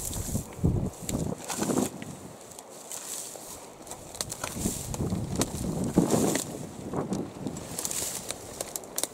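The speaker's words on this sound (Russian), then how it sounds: "Ветер уже несколько дней дует и дует сильно." Strong outdoor wind in a village, blowing hard for days: a loud, gusty roar buffets close to the mic throughout, with scattered rustles and knocks mixed in.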